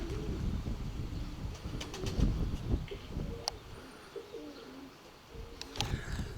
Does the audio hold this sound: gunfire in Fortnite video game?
no